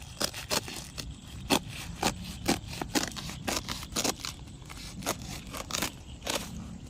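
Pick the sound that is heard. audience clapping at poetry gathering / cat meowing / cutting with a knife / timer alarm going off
cutting with a knife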